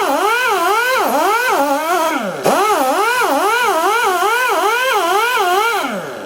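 A taxidermy fleshing machine runs at slow RPM while a hide is dragged forward against it, giving a loud, close, whining motor tone that rises and falls in a regular wavering rhythm, with a brief dip midway.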